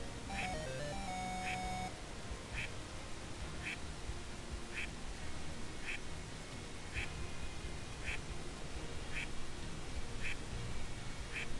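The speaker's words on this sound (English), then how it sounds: "it will occasionally launch a duck out" A duck launch Easter egg in the video game Heroes of the Storm gives evenly spaced short quacks, roughly once a second, over a dense, steady game soundtrack, after a brief musical chime at the start.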